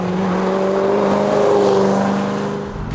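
An HSV GTS accelerates hard, its engine note climbing steadily and loud and close throughout, a continuous strong roar with no talk over it.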